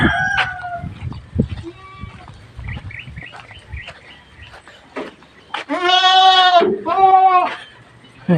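Pet goats on a small farm, heard as two loud, drawn-out bleats close by near the end, after a stretch of quieter farmyard sounds with a rooster-like call early on.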